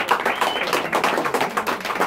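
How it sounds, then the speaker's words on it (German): Audience clapping at a summer floor concert in a hall, brisk and rhythmic with fairly even, close hand claps filling the short stretch and no talk over it. "Einen Applaus, glaube ich, schon mal."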